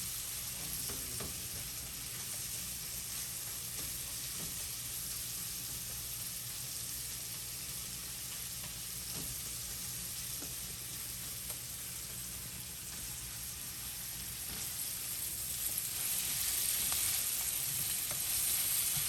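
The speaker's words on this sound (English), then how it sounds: "You give it a little bit of fry." Onions sizzle steadily in a frying pan as they cook toward light brown, a continuous close hiss with a few faint clinks, growing slightly louder near the end.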